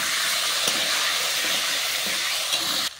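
Diced potatoes frying in leftover oil from fried chicken, a continuous even hiss of sizzling that runs steadily for about three seconds, then cuts off abruptly, with no voices.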